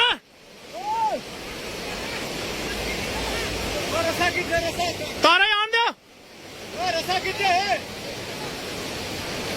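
Severe floodwater rushing in a river in Rajouri, Jammu and Kashmir, a loud continuous roar with several people shouting over it.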